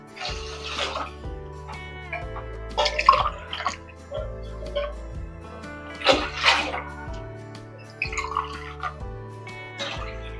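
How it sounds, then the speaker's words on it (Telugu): Water is poured into a cooking pot that already holds milk, for making milk rice dumplings. Several short splashing bursts rise and fade over a steady tonal background hum. "చూడండి వాటర్ పోస్తాను"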